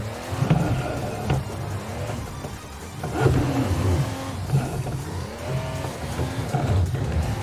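A car engine in the driving game Assetto Corsa revs hard and continuously while drifting, its pitch sweeping up and down in repeated surges with faint tire squeal underneath, loud and close throughout.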